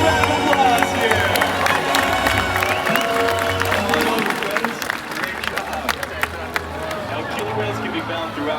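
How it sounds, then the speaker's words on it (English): A live crowd at a presentation breaks into loud, steady clapping and cheering, with a dense patter of hands and a babble of voices running through the whole stretch. "let's give them a big round of applause here"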